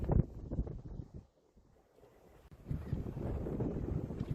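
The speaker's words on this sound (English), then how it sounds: "it is a bit windy today down by the coast" Gusty coastal wind buffets the microphone in low, rumbling bursts that drop away briefly, then return as a steady blustery roar outdoors beside a 1991 Toyota Supra A70.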